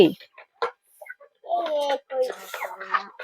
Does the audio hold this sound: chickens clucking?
yes